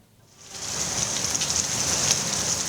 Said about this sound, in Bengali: সারা দেশে গেল কয়েকদিন ধরে এমন মাঝারি থেকে ভারী বৃষ্টি হচ্ছে